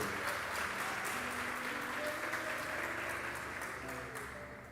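A church congregation claps and cheers continuously during a service, a dense wash of applause that slowly fades toward the end.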